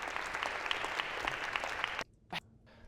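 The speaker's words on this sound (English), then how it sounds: "a round of applause for having so proactively volunteered" A lecture hall audience gives a round of applause for student volunteers, fairly faint and distant, steady for about two seconds before cutting off abruptly, followed by a single brief clap.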